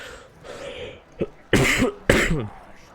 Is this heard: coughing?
yes